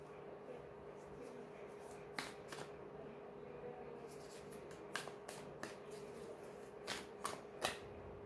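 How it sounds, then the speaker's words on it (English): Tarot cards being shuffled and pulled one by one for a yearly reading, heard as soft, close, sparse snaps and riffles scattered over quiet background hiss. "So we will be pulling one card each for every month."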